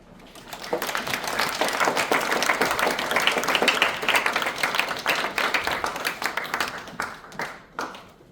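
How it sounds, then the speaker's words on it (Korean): A church congregation applauds a guest speaker: dense clapping swells quickly, holds steady for several seconds, then thins to a few scattered claps before stopping. "이 강의하러 올라오실 때 격려의 박수를 하도록 하겠습니다."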